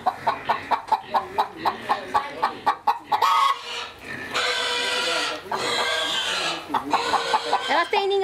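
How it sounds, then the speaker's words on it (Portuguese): A hen clucks in a quick rhythmic series close by inside a building on a rural smallholding, then squawks and grunting noises follow, with a person talking briefly. "Olha a galinha aqui dentro"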